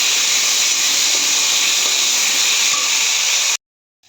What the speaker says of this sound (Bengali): এবার এটা ভেজে নেব।